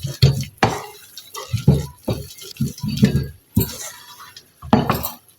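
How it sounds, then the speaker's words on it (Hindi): Cooked meat being mashed in a pot for shami kebab, with repeated scraping and thudding strikes of a utensil against the pot in an uneven rhythm, close and fairly loud. "मैं इसे अच्छी तरह से इसी में ही मैश करूँगी"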